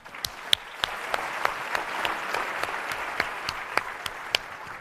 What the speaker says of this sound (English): Give Brandon another round of applause